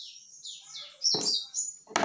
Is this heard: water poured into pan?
no